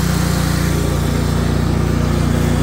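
The engine of a 48-inch Exmark Quest commercial-grade zero-turn riding mower runs at high revs, a loud, close, steady drone with an even pulsing rumble and no other sounds.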